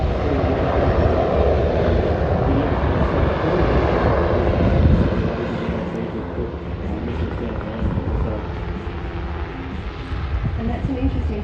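A Black Hawk helicopter flying at the Avalon Airshow gives a loud, sustained rotor and turbine roar that stays strong for several seconds, then eases slightly and holds steady, with a voice talking over it.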